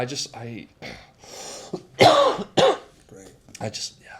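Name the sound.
coughing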